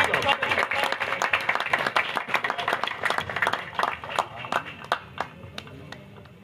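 An audience at a pigeon fanciers' function in Faisalabad claps for an honored guest. The applause is sharp and close, starting as dense clapping and thinning to scattered claps as it fades.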